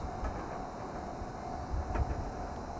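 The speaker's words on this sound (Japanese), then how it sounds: "まもなく川口湖方面行きの電車が参ります。" A Fujikyu train approaches the station platform toward Kawaguchiko, heard as a steady low rail rumble with faint clicks and brief squeals, moderately loud and with no speech.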